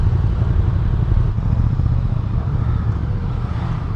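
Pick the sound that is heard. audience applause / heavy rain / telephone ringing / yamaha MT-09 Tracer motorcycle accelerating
yamaha MT-09 Tracer motorcycle accelerating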